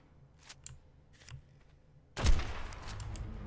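Gunfire in ARK: Scorched Earth aimed at a mantis, a sudden loud burst of shots breaking in after a quiet stretch with faint scattered clicks.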